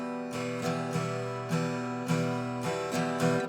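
Acoustic guitar strummed on the beat with upstrums between, clear and close, a steady even pattern of chord strokes heard alone with no talking.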